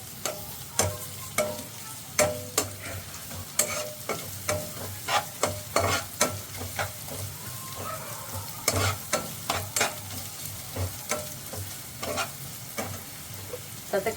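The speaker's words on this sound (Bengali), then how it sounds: "পেঁয়াজটা একটু লাল করে ভেজে নেব।" Chopped onions fry in a pan with chicken roll filling, a steady sizzle broken by frequent scraping stirs and clinks of a utensil against the pan, close and moderately loud throughout.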